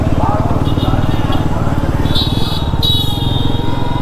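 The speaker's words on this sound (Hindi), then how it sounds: "ये रही हमारी मोटरसाइकिल। एक बार ये फिर से इसका एग्जॉस्ट सुन लो" A 2026 Bajaj Pulsar NS 400Z engine and exhaust throb in a steady, close, pulsing drone while riding, holding an even note throughout as someone talks over it.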